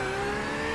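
A Porsche 992 GT3R race car engine in iRacing at the Daytona road course holds a steady, loud, close drone for under a second.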